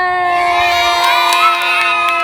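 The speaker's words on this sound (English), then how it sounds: "Give her a cheer!" Children in a school garden group let out a loud, sustained high cheer, ringing voices held steadily together for a couple of seconds at close range.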